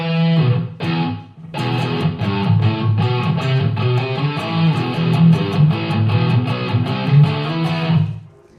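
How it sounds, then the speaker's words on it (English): A distorted electric guitar through a Morgan amp plays a steady run of chords and notes with a short, tight small-room reverb, ending in a brief decay. "And let's go to a small room reverb."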